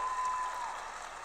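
An audience applauds at a Love Is Blind Season 7 reunion show, a dense, steady burst of clapping that fills the short moment on its own.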